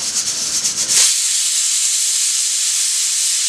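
A pressure cooker on a kitchen gas flame releases its first whistle while cooking a soya chunk masala curry, a loud steady hiss of escaping steam that swells after a second and keeps blowing without pause.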